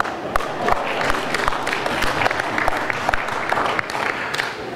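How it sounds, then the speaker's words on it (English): An audience applauds in a crowded room, a dense, sustained patter of many hands with some louder individual claps standing out, and indistinct voices mixed in beneath. "All of you who aren't grandparents should applaud right now"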